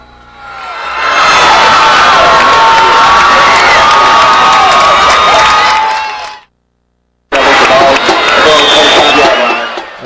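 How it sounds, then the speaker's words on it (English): Loud, close crowd at a 1994 Manchester High School Blue Devils football game roars and cheers with shouting voices, breaks off to brief silence, then resumes just as strongly. "Look at that crowd."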